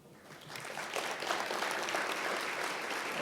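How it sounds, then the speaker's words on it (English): An audience at an MLK Day event applauds after a presentation; the clapping swells within the first second and then holds as a steady round of many hands. "Can we please give Dr. Salter another round of applause"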